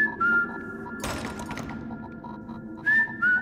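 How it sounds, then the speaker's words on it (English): Whistling in a spa hallway at night, a thin tone sounding in short bursts at the start and end, moderately near, with a dull thump and broadband clatter in between and a steady hum underneath; no talking. "I heard what sounded like someone whistling."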